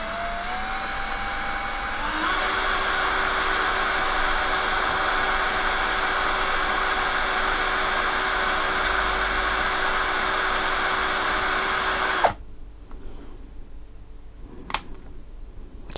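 A cheap ASTEEL cordless battery drill with an impact feature and metal chuck spins up and holds a steady high whine for about ten seconds, loud and close, then cuts off, leaving a quiet room with a few small clicks.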